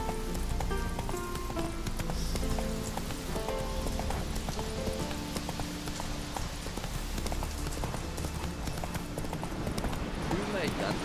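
Roach the horse gallops in The Witcher 3, a steady clip-clop of hooves with rain-like noise in the background, while a voice talks over it.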